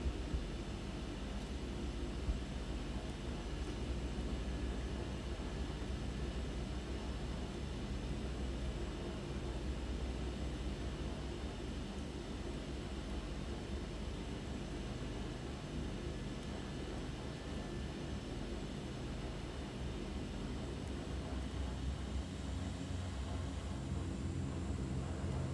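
A Twin Otter airplane taxis with a steady, loud engine and propeller drone that holds constant throughout, a continuous broadband roar with no pauses.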